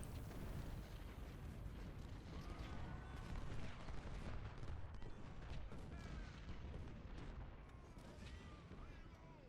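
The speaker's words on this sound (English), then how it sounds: "This is encircle and blast with canister and exploding shell." Continuous roaring battle din of canister and exploding-shell artillery fire in the Civil War strategy game Ultimate General: Civil War, dense booms and crackling volleys blended into a steady wash, with someone talking over it.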